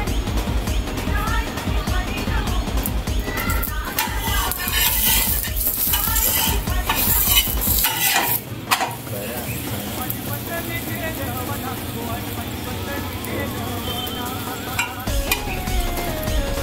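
Puran poli cooks on a griddle after being flipped, with ghee spread on top. It sizzles steadily throughout, with scraping and clattering utensil noises. Someone speaks Marathi over the sizzle.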